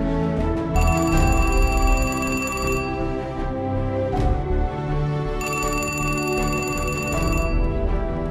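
A telephone rings in a TV drama scene, two long bursts of shrill electronic ringing separated by a short pause, clear and close over a low background hum.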